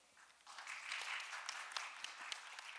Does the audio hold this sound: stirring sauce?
no